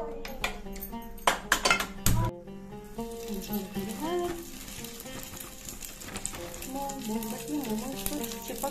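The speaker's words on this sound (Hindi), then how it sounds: "हम इसको बनाएंगे पैन फ्राई। ठीक है, पहले इसमें डालेंगे ऑयल" Momos pan-frying in oil with metal utensils clinking against the pan, a few sharp clatters early on, then a softer sizzle under overlapping voices and background music.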